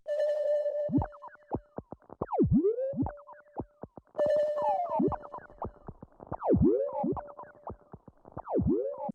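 A repeating electronic tone with echoing repeats that swoop and bend in pitch, swelling and falling as the delay time shifts, in two similar passes.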